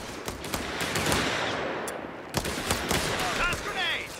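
Gunfire rattles through a World War II Italian campaign battle at Agnone in Company of Heroes 3, with machine-gun bursts and sharp rifle cracks repeating close and loud, and shouted voices mixed in.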